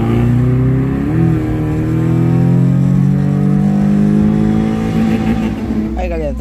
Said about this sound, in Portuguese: Se liga na tomada do